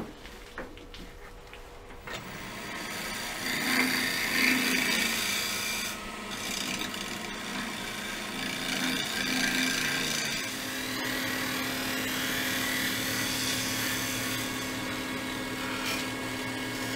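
A gouge taking a finer finishing cut on a spinning beech bowl on a wood lathe, with a steady close scraping rasp and the motor humming underneath.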